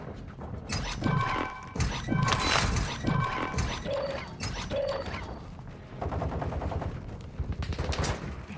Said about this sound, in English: That's players shooting at them.